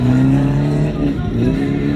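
Race cars roar loudly on a rough, rutted dirt track at a no-rules amateur race in Zhatay, with strong sustained engine drone, revving and pitch shifts as they pass close by.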